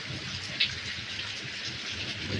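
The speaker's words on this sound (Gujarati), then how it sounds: "વરસાદ આવી ગયો છે" Steady rain falling outdoors near a farm field, an even dense hiss throughout with no voices.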